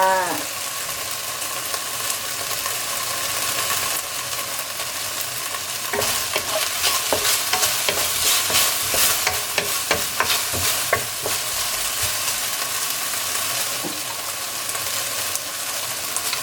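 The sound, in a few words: onion being stir-fried in a pan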